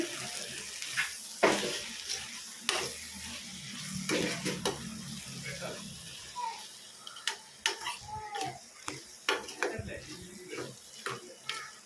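A spoon stirs bottle gourd and prawn curry in a pan, giving irregular scraping clicks and knocks over a soft sizzle, with quieter stretches between the louder strokes.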